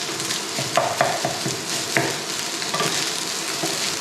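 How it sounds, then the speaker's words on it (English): Rice and eggs stir-fried on high heat, pressed and tossed in the pan: a dense, close sizzle broken by repeated sharp spatula scrapes and knocks at an irregular, busy rhythm. "you just keep on pressing onto the rice to loosen it up into the eggs"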